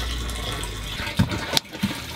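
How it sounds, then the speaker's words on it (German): A camper van water tank filling from a tap in a beach bar bathroom, with a continuous rushing gush of water and a few brief knocks and splashes, close and with nobody speaking. "Wasser auffüllen."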